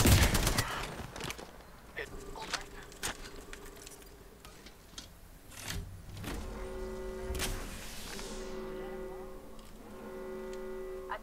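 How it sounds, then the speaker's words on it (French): A shield recharges in Apex Legends with a whirring, rising electronic tone, set among scattered gunshots and game noise, with a brief sweeping surge near the end. "Je recharge mes boucliers."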